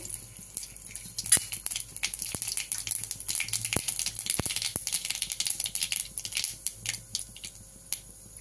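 Mustard seeds splutter in hot oil in a kadai, a rapid irregular crackle of sharp pops and snaps over a soft sizzle, close and lively, with no talk.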